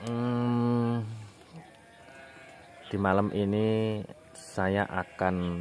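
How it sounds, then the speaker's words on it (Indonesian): Goats at a farm of more than 150 animals beside rice fields bleat in loud, wavering calls, one long cry opening and a cluster of shorter overlapping bleats later, while someone speaks quietly between them. "Ada suara kambing,"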